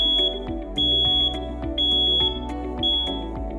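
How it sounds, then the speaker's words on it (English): A leak detector alarm on a double-walled Krampitz storage tank gives a loud electronic beeping that repeats in regular bursts, each with a sharp tone. "If the tank leaks due to corrosion or external damage, the leak detector triggers an alarm."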